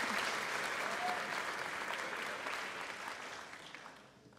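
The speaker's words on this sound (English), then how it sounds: "One more round of applause for our first judge." An audience at a school pageant applauds a judge, steady dense clapping from a crowd that gradually tapers off toward the end.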